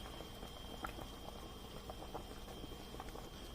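Catfish pepper soup with semi-ripe plantains simmers in a covered pot, giving a steady low bubbling with scattered soft pops, quiet and close, and no voices.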